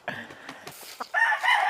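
A rooster gives a few short clucks, then breaks into a loud, close crow that fills the second half, with no talking over it.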